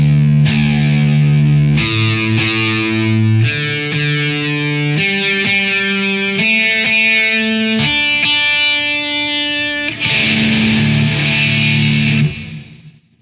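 A distorted electric guitar in altered tuning plays a riff, with sustained ringing chords and a climbing melodic figure, loud and close, ending in a long fade.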